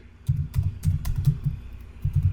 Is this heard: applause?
no